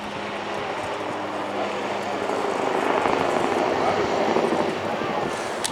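An autogyro gyrocopter flies at the Blackpool Airshow, its engine and rotor giving a loud, continuous droning roar that swells slightly in the middle of the pass.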